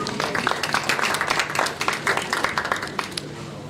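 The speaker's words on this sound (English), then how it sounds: "Let's clap for him" Brisk clapping from a crowd at a Sierra Leone Premier League sponsorship signing, greeting football official Prince Kai Sakio; steady, close and fairly loud throughout the short stretch.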